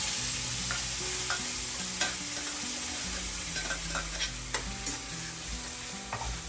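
Tadka tempering for palak paneer sizzles steadily in a pan on a home kitchen stove, a continuous frying hiss broken by scattered stirring clinks and scrapes, close and moderately loud, with no talking.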